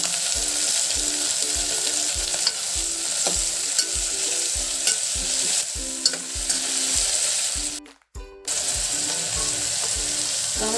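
Chopped tomatoes dropped into a pan of onion and chili frying for tomato rice, a steady close sizzle with rhythmic scraping stirs throughout and a brief dip near the end.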